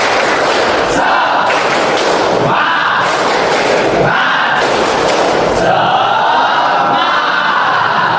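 A loud class of voices chants in unison while clapping in rhythm, energetic and dense, filling the space throughout.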